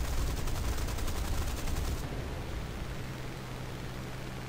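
Aircraft gunfire shooting down a target in War Thunder, a dense rapid machine-gun rattle for about two seconds, then stopping and leaving a steady engine and wind drone.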